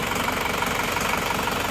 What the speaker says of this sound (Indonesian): Kita lepas gasnya, ternyata langsung bisa stasioner.